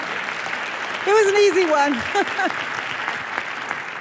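Audience applause at a talk on economics and empowerment, a steady bed of many hands clapping, with someone speaking briefly over it partway through.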